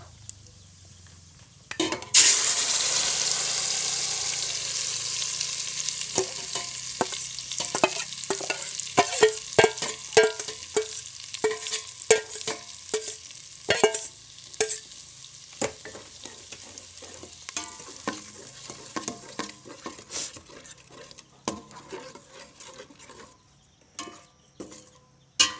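Onion and tomato puree with red chili powder frying in oil in a pan for a matar paneer gravy: a loud sizzle bursts in after two seconds and continues steadily, with repeated stirring scrapes and clinks of a utensil and no talking.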